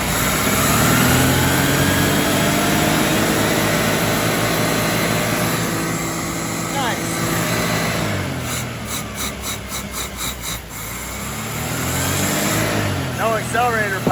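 A 1981 Dodge Challenger engine runs with no accelerator pump, a loud rough idle close by that dips and wavers partway through before picking back up, with people talking over it.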